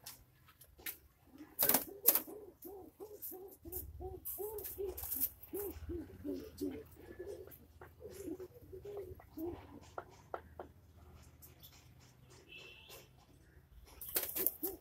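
A pure Malwai pigeon of Punjabi stock coos in a run of soft, rhythmic rolling calls close by, each coo evenly spaced, with scattered clicks and faint background noise around them.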